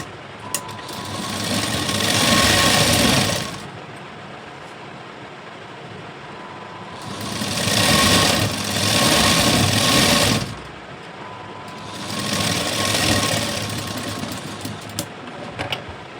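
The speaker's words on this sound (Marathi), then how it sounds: "या बाजूलाही एक शिलाई देऊन घेऊ." A sewing machine stitches a blouse seam in three sustained runs of steady whirring, each a few seconds long, separated by quiet pauses, close and fairly loud with no talking.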